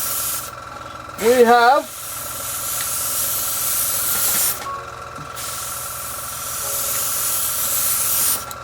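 An airbrush sprays paint after being cleaned and tuned with its air solenoid loosened, a steady airy hiss running through most of the clip, with a brief voice near the start.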